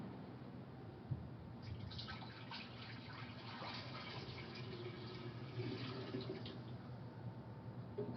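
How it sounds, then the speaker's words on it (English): Liquid pours from a pitcher into a science beaker, a steady close splashing trickle that runs for several seconds without talk. "Now I'm going to take this pitcher and I'm going to pour it into this science beaker."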